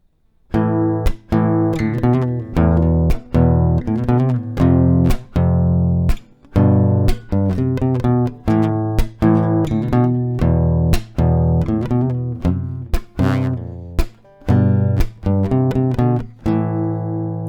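Acoustic guitar chords strummed in a steady progression at moderate speed, ringing and close, with brief gaps between some changes and no voices.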